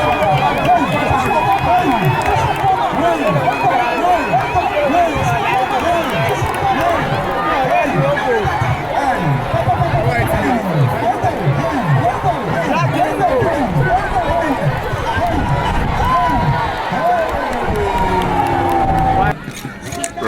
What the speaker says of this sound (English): It is really interesting how individuals will be shouting, cheering their men up to victory.